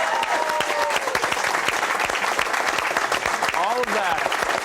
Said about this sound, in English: I'm going to let you applaud for that as well